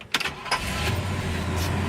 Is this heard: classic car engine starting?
yes